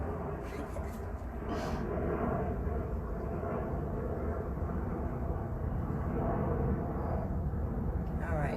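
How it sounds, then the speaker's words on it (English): A loud airplane flies overhead, producing a steady, broad roar that fills the whole stretch without fading. "Sorry, it's a very loud plane."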